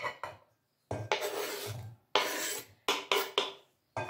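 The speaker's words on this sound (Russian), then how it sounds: "и высыпаем в салатничку." Sliced olives are tipped into a salad bowl. A few close, separate bursts of rattling and scraping come with short pauses between them as the slices slide and drop.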